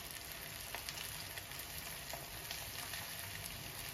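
Chicken fry sizzles steadily in a pan on a stove, with coriander just added near the end of cooking. The frying hiss and crackle is close and continuous, with no talking.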